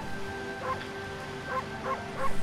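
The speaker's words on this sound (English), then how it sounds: "Bark, bark, bark." Four short dog barks from the video game Okami, spaced irregularly over a low steady background hum with no talking; yappy and close.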